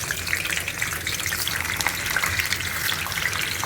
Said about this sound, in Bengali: এখন আমি পটল আর আলুগুলোকে ভাজবো।